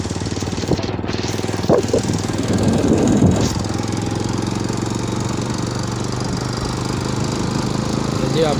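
A motorcycle engine idles and then revs steadily as riders get on for a ride on a road in Punjab, a loud, close, rhythmic thrum that continues throughout.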